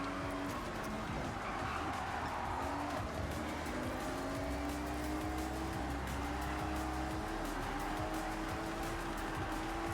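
Engine whine of a car driven in the racing game Forza Horizon 6, a blue Porsche, with rising and falling revs, tyre squeal and skids running steadily throughout, with faint talk in the background.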